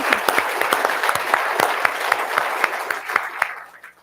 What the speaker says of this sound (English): let's give them a round of applause for the camera